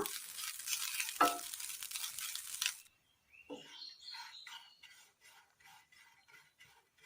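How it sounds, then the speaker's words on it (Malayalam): Grated coconut sautéed and stirred in a hot pan: a steady dry sizzle with metal utensil scrapes for about three seconds, then quieter scattered clinks and faint chirping after the frying noise stops. "തേങ്ങ ഒന്ന് വാട്ടിയെടുക്കാം"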